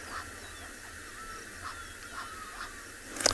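Egyptian geese calling on a safari reserve at sunrise, the female giving a run of repeated quacks, faint and steady across the clip with a louder call at the end.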